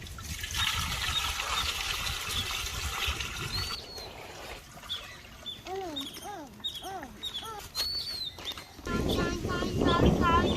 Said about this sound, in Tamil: கூழ் காய்க்கிறதுக்கு நம்ம கொஞ்சம் தண்ணி ஊற்றிக்கலாம்.